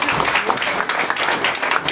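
A crowd at an indoor meeting claps steadily, with a thick wash of many hands that stays fairly even and loud throughout, and faint voices mixed in beneath.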